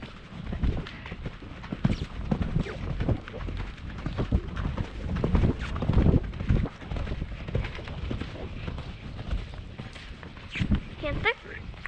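A horse cantering outdoors, rhythmic hoof clip-clop heard close under wind buffeting and occasional voices, with the gait continuing throughout.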